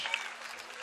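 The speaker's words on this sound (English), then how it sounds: "let's give them a big round of applause" Crowd applause for the beach volleyball medal winners after the men's gold medal match, a faint, steady wash of clapping heard from a distance.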